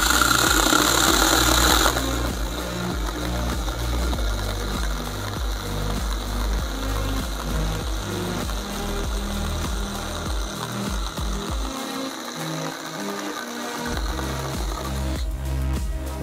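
ValueMax 12V battery-powered mini chainsaw cutting through a small log, a loud, steady whirring drone broken by a rattling, pulsing chatter as the chain bites the wood for most of the cut, with a brief sharp burst at the start.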